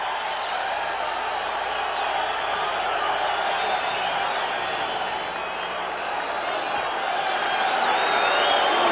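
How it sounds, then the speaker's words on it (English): A large crowd at a boxing arena cheers and roars continuously as a fighter enters the ring, making a dense, steady wash of voices with whoops rising out of it. "listen to this crowd"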